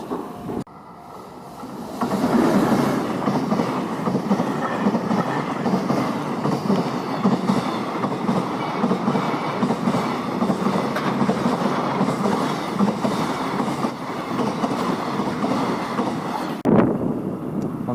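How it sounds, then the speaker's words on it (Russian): A Japanese conventional train rumbles past close by at a level crossing near Shizuoka, with a steady, clattering roll of wheels on track, lasting most of the time before cutting off abruptly. "Да, не успели шлагбаум закрыть, вон еще поезд."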